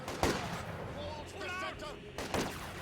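Explosions and gunfire from Wehrmacht mortars in the Company of Heroes 2 strategy game, with sharp blasts near the start and again near the end and sustained battle noise in between.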